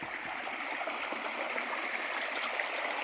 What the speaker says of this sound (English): There's a lot of water that comes through here.